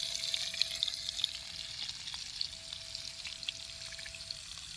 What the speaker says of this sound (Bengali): মাংসর জন্য আমরা আলু ভেজে নেব